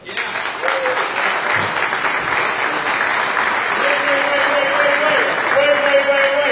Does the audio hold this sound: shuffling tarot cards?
no